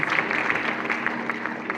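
Brief applause from guests at a church wedding, a continuous patter of many hands clapping at moderate level with a few sharper claps standing out.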